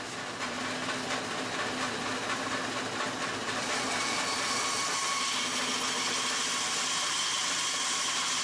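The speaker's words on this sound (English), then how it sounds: "I'm just going to use the bandsaw to cut along that line that I just made with the plywood to make a curve in it" Bandsaw cutting a curve through plywood, a steady broadband whine with a low hum that runs continuously and grows slightly brighter partway through, close and fairly loud with no talking.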